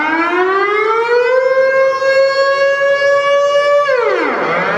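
Netherlands emergency alert siren: a loud, steady electronic wail that slowly climbs in pitch and holds, then drops sharply in a falling sweep near the end, with no voices.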